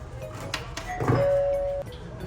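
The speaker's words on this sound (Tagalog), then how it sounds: "Tapos pipindutin mo tong bell pag ready to order ka na." A table call bell at a restaurant in Makati is pressed to order, giving one clear electronic chime that holds a steady tone for under a second over faint room clatter.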